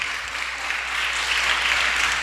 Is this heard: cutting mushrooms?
no